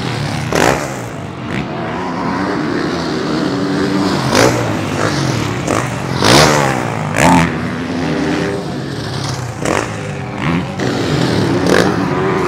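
Motocross motorcycles at a French Elite championship round race past on the dirt track, engines snarling and revving loudly as bikes sweep by one after another, with rising and falling whines throughout.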